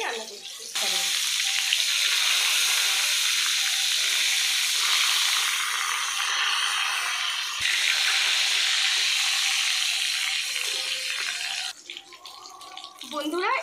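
Loud, steady sizzle of sliced pointed gourd (potol) frying in hot oil in a home kitchen, close and continuous, with a short dip near the end as pieces are lifted out.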